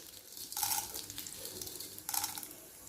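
Peanuts, chana dal and urad dal fry and get stirred in a pan for a Telugu ridge gourd peel chutney, giving a soft, close sizzle with two brief scraping bursts of stirring and no voices.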